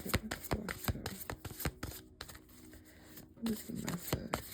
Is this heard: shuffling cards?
yes